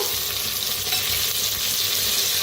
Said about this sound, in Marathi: सगळं भाजून घेऊया.